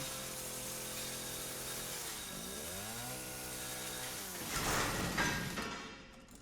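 A chainsaw in the horror game Resident Evil 7 revs and cuts with a steady buzzing drone. The pitch dips and swells as it bites in, then it roars louder and harsher for a moment before easing off, with no talk over it.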